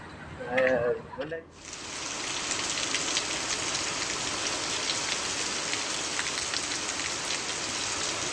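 A brief voice at the start, then a sudden onset of heavy rain in Nana Bhandariya village, Amreli, a constant loud hiss of downpour that continues to the end.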